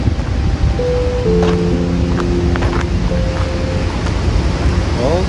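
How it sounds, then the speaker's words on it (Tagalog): Crescent Falls near Clearwater, Alberta, a steady loud waterfall roar filling the whole clip, with brief tonal hums layered over the constant rush. "Okay, so ito pala ang falls. Yan ang Crescent Falls."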